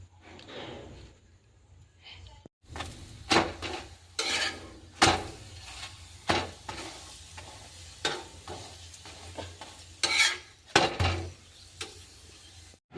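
Naan roti cooking on a hot tawa griddle, with repeated sharp scraping and clattering strokes against the pan over a steady low background hiss, the sounds loud and close.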